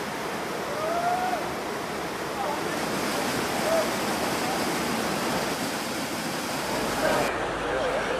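Water rushing along Iao Stream in Maui, a steady dense broadband wash with no breaks, close and fairly loud throughout.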